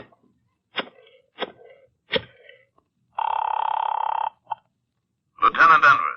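A telephone being dialed in an old-time radio crime drama: three sharp, evenly spaced clicks, then a steady buzzing tone for about a second, a brief blip, and a short rougher burst of noise at the end.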